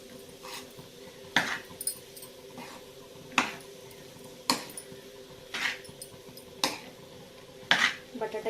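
Chopped potato being stirred and sautéed in a pan, a spoon scraping and knocking against the metal in repeated sharp clatters roughly every second over a low background hum.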